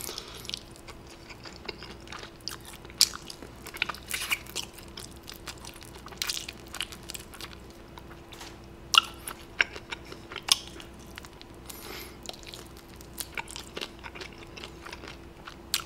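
Crunchy fried chicken from a Korean chicken shop being bitten and chewed up close, with sharp crisp crackles at scattered moments over a quiet, faintly humming room.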